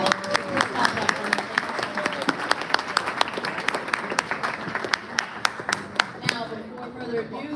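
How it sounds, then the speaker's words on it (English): An audience claps at a sports awards dinner, a moderately close spread of clapping with sharp individual claps standing out, over a murmur of voices in the room. "Please clap it up for her."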